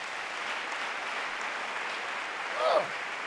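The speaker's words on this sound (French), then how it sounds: "Acclamons Jésus." A church congregation applauds during a French-language sermon, a steady, dense wash of clapping that holds at an even level throughout and swells briefly near the end.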